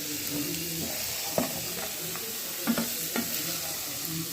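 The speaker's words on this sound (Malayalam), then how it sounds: "ആ മല്ലിയിലയും എല്ലാം കൂടെ മുകളിലേക്ക് പച്ചമുളക് മാറുന്ന വരെ വയറ്റി കൊടുക്കാം" Fish eggs frying in a pan with green chilies, ginger, garlic, curry leaves and coriander leaves give a steady sizzle, broken by a few sharp scrapes and knocks of a spoon as the mix is stirred.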